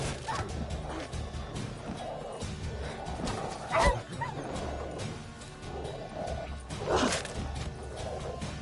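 Dogs bark in The Witcher 3 over an ambient game background, with a couple of louder barking bursts standing out near the middle and end of the clip.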